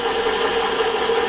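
A Taig CNC mill spindle turns at 800 RPM through a chain drive inside an enclosure, making a steady, even mechanical whir with a faint rattling texture throughout.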